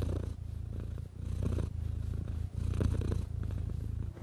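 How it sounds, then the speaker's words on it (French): A domestic cat purrs steadily and close up, a soft rhythmic rumble rising and falling with each breath, alone without any voices. "Le ronronnement a des effets bénéfiques sur la santé physique et psychique de l'homme."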